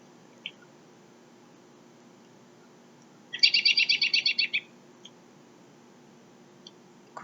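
In a quiet maple sugar bush, a single buzzy, rapidly pulsed call from an American robin lasts just over a second, with a few faint isolated clicks before and after.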